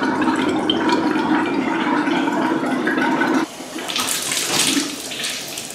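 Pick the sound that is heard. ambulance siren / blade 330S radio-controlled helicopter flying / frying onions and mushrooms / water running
water running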